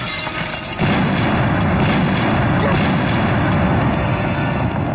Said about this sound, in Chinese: 有炸弹，快躲！